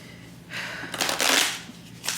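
Playing cards are shuffled for tarot-style reading in a quiet room, producing two riffling bursts of crisp papery flutter, the second louder and longer, followed by a faint rustle near the end; no one speaks.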